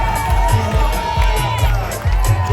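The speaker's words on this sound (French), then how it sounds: "c'est le soulagement du départ et la ferveur exceptionnelle de la foule qui nous supporte" A large crowd cheers and shouts at the start of the Diagonale des Fous ultra-trail race on Réunion in 2022, a dense loud roar of voices close around, with rhythmic clapping and whoops.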